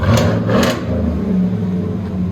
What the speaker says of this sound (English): See the difference in sound? Oh, big difference. Much deeper it is.